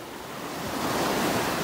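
Ocean surf washing onto a beach in North Naples, Florida on a cloudy morning with small waves, a broad steady hiss of breaking water swelling slightly louder, mixed with some wind noise on the microphone.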